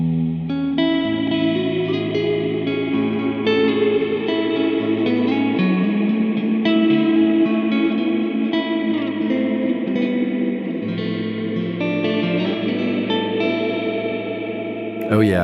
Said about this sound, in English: the Empress reverb is rad because it's a digital reverb